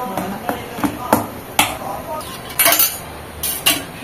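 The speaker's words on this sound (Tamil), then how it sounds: "இது மாதிரி நல்லா மிக்ஸ் பண்ணி கடைஞ்சி வச்சுக்கோங்க எல்லாத்தையும்" Banana adai batter being stirred and beaten in a bowl, with repeated clinks and scrapes of a spoon against the vessel, close and fairly loud, in an irregular rhythm.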